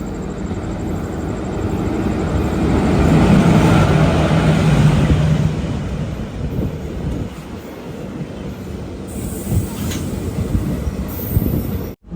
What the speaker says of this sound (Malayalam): മംഗളൂരു സെൻട്രൽ കന്യാകുമാരി പരശുറാം എക്സ്പ്രസ് ഇതാ